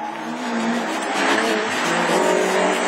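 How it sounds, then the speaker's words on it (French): Rallycross cars, an Audi A3 and a Peugeot 306, racing in a duel on an icy track, loud engine roar rising with revving and tire noise, close and continuous. "Le duel entre l'Audi A3 et la 306, Maxi, celle d'Yvan Bedouet et l'Audi de Jim"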